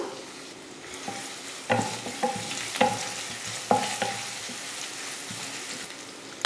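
Crushed ginger and garlic sizzle quietly in hot oil, with a few sharper clinks and scrapes as a spoon stirs them in the pan; no one speaks.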